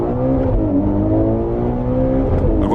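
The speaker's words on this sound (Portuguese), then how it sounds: "existe um botão no site para você ouvir o motor do carro" A Ferrari engine plays back from a website sound button, a loud steady revving drone with clear rising harmonic tones, alone without talk.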